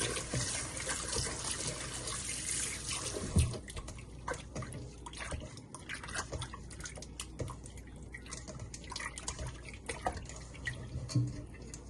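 Tap water runs continuously while noodles are rinsed in a sink, a steady splashing and dripping stream with occasional louder splashes, close by and fairly quiet.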